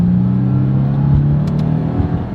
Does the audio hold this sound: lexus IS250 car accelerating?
yes